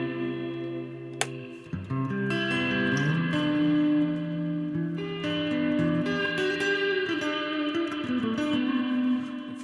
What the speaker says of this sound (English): And of course, we got a delay and we got a reverb.